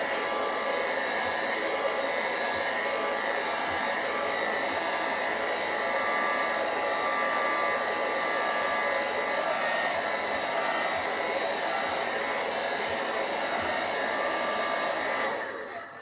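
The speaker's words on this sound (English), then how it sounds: "I'm having the blow dryer follow my comb or my brush" A blow dryer runs steadily at close range for the full stretch, drying and styling a beard as a brush or comb guides it, with one even, unbroken whoosh that cuts off only at the very end.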